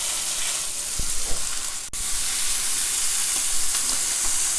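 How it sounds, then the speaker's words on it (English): Pork tenderloin sears in a hot pan with a steady, close sizzling hiss, broken by a brief dip partway through before the frying noise resumes, with no voices. "All right, our pork is sizzling away"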